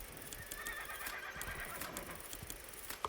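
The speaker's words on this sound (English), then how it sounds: "We have a horse named Ignis" A horse in a video game neighs in a faint whinny over quiet game ambience, with a short click near the end and no talking.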